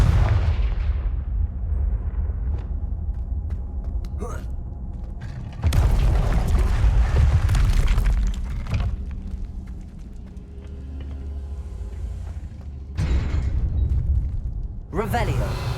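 Confringo blasting-spell explosions in Hogwarts Legacy: heavy, booming blasts with rumbling low-end, one large eruption midway and more sharp bursts near the end over continuous battle noise.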